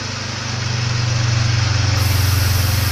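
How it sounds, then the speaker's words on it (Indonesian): A motorcycle engine in the horror game Mata Batin hums steadily at close range, a loud, even drone that rises slightly and holds without a break. "Ya ini ada suara motor ya"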